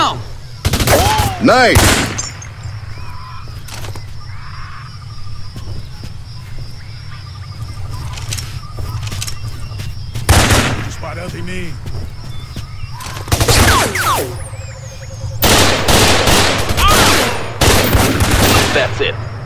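Bursts of automatic gunfire and single shots in the first-person shooter Raven Squad, loud and close in clusters across a beach battle, with a steady engine drone beneath and a voice briefly speaking.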